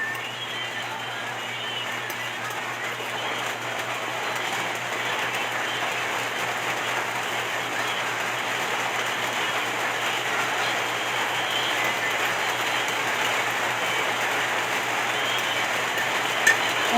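Steady rain falling outdoors, a continuous broad hiss that holds even and unbroken throughout, with a faint low hum underneath.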